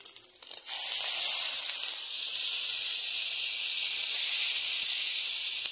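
Guaje salsa hits chopped egg in a hot pan with a loud, bright, continuous sizzle that holds steady for several seconds, close and alone.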